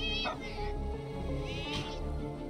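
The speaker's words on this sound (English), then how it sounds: "We have to help the cat!" A cat meows in the video game A Space for the Unbound, a few short mewing calls over continuous game music and background sound, moderately loud and close.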